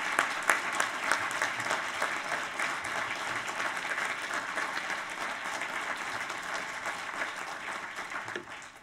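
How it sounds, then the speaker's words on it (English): Sustained applause from a large audience at a United States Naval War College graduation ceremony in November 2016, honoring the graduates; steady, dense clapping fills the whole stretch at an even level. "please join me in saluting, through your applause, the November 2016 graduates of the United States Naval War College"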